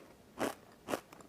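Two crisp crunches spaced about half a second apart as a plain air-fried pasta snack is bitten close to the mic, with faint chewing crackle after.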